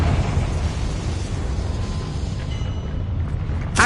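Spell explosion from a Harry Potter video game, a dense, loud, sustained roaring burst lasting a few seconds, with a sharp crack at the very end.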